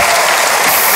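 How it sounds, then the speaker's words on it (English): Loud, close applause fills the hall at a OnePlus smartphone launch event in Mumbai, a continuous wash of clapping with no break. "So give yourself a round of applause for being here."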